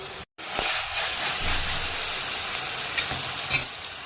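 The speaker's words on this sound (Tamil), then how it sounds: "வெங்காயம் ஓரளவுக்கு வதங்கிடுச்சு." Chopped small onions sauté in a pan for chicken curry, hissing in a loud, steady sizzle close by, with scraping stirs and a brief pause near the start.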